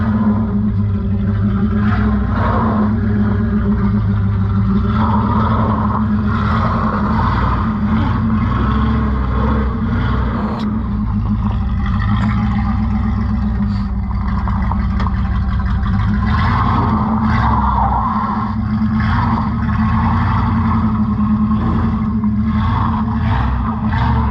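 A Subaru car with a welded differential labors up a hill, its engine droning loud and continuous with a low rumble and shifting revs throughout.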